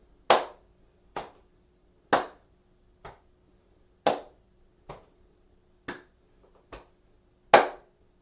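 Hands clapping in a slow, evenly spaced brain-exercise routine, about nine crisp, close claps with short silences between them, some louder than others, and no talking.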